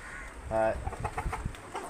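A single drawn-out cluck from a Brahma cross chicken followed by a few short, quieter clucks against low background noise.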